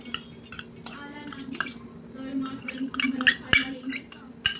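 Soaked moong dal being tipped into a mixer jar brings a run of metallic clinks, taps and scrapes of utensils, close and irregular, growing busier toward the end.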